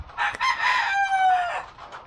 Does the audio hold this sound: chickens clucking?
yes